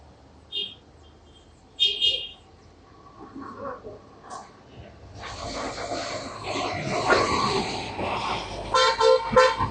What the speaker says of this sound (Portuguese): Tá vindo uma carreta ali buzinando.